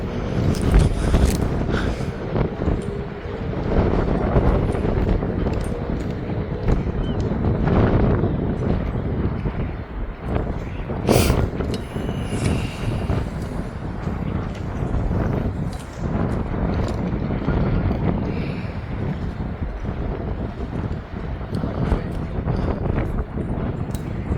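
Steady wind buffets the microphone at Middleton Pier, a constant rumbling roar with occasional gusts and soft knocks, no voices.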